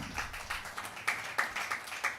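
Scattered hand clapping from a church congregation during a Tamil sermon, a few irregular claps sounding faint and distant.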